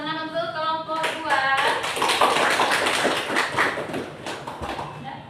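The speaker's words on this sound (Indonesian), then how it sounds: "Dan kita beri tepuk tangan untuk kelompok 2" A classroom group claps after finishing a presentation, a dense burst of hand claps that starts about one second in and carries on steadily, with voices speaking over it throughout.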